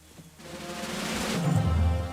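Loot Appraiser sound effect from the video game Goldbound: a rising airy whoosh that swells into a loud, low, resonant tone, brief and heard alone.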